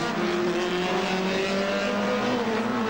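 The number 15 Peter Jackson Nissan race car drives in persistent rain with a loud, sustained engine drone that rises slightly in pitch, heard steadily throughout.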